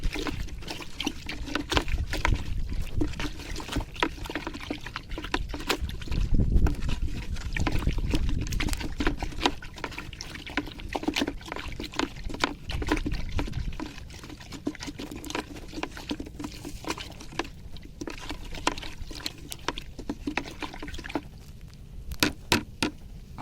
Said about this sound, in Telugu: కట్టితే ఇలా బాగా కలుపుతున్నాను